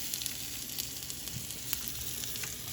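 Lemon halves sizzling on a hot grill alongside king crab, shrimp and sausage, a steady close frying hiss with faint crackles and pops throughout, no talking.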